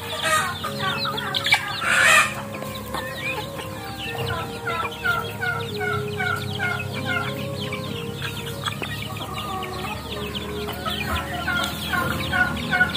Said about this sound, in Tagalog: Mababait ng mga manok.